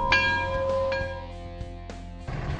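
A bell at a car dealership strikes a few times, each ring bright and sustained, decaying slowly with a steady low hum beneath.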